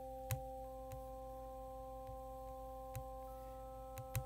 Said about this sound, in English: instrument that performs additive synthesis using sine waves